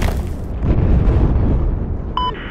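A C4 blast in Battlefield 4 on Xbox One, a loud, deep boom with a rumbling tail that fades over a couple of seconds, followed by a short electronic tone.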